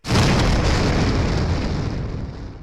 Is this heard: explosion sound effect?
yes